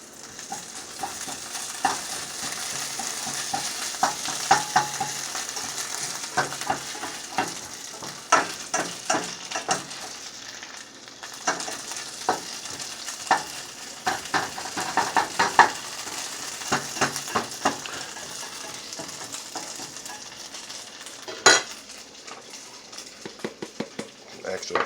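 A spatula stirs an egg mixture seasoned with ground pepper as it fries beside scrapple in a pan, with a steady sizzle under repeated scraping and clicking strokes and a voice talking intermittently.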